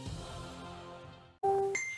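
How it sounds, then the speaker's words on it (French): A couple of clear electronic phone notification tones chime out after a brief pause, following a stretch of busy background noise. "Ces sonneries, Steven Lebé les entend des centaines de foi"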